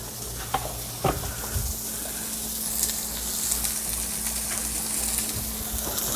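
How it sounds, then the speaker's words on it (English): Onions sauté in a pan left with pork chop drippings, a steady loud sizzle running throughout with a few sharp stirring knocks near the start. "Start off sauteing up some onion."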